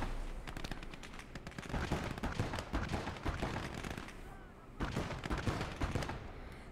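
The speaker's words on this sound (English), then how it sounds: "You can see that cannon's destroying everything." Heavy gunfire and booming cannon shots in the WWII strategy game Gates of Hell: Ostfront on the Farmstead map, a dense, continuous barrage of overlapping blasts with a brief lull near the end before the firing resumes.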